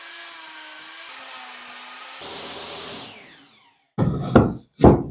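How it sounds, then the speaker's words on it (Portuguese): A power saw cuts wood at a 12-degree angle while building a chair: a motor whine, then the blade chewing through the board with rising noise, followed by two short bursts of rubbing and clattering close by. "vou posicionar a madeira aqui, vou ligar a serra e vou fazer esse corte aqui de 12 graus"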